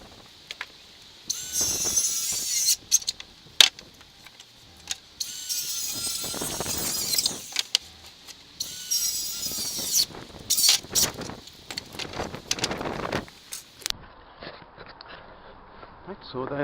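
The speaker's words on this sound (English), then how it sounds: "So now I just need to cut another one down into the desired lengths." Decking boards cut to length with a power saw for a raised bed planter, several loud bursts of cutting with gaps of handling and clatter between, ending in quieter wood noise.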